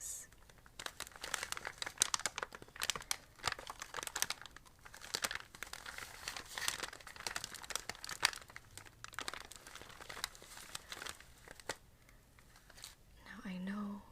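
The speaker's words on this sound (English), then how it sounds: "Now I know that crinkles are good for ASMR videos, but they're not so good when you just want to sleep" A Tyvek sheet is handled and crumpled in close, crisp crinkling bursts that come and go in irregular rustles, with faint soft voices in the background.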